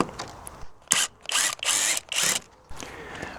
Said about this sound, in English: So it's just a matter of unscrewing these.